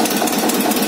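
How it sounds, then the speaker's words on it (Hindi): An Eicher tractor engine runs at a tractor market, giving a brief, close, steady chugging idle rumble with no talk over it. "अभी आपको हम ट्रैक्टर की आवाज सुनवाते हैं।"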